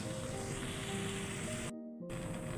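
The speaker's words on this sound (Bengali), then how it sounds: "এখন জল দিয়ে দিব।" Water poured into a simmering hilsa fish and taro curry in a pot makes a steady, close hissing sizzle that cuts out briefly before resuming.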